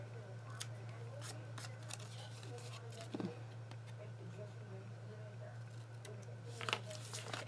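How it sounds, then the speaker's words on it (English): Several quick, crisp snips of ribbon scissors trimming ribbon, scattered irregularly over a quiet background with a steady low hum. "take your ribbon scissors and just trim it up"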